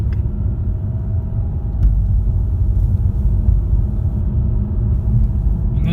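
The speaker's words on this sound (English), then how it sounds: "so excessive road noise is probably pretty normal" Road noise inside a moving 2.3 EcoBoost Mustang on a rough road, a loud, constant low rumble from the tires and cabin, with a couple of faint bumps and no talking.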